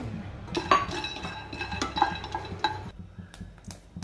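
Peanuts go into a pan on the stove and are stirred with a spoon. Close, sparse metallic scrapes and clinks of the spoon against the pan, with no voices.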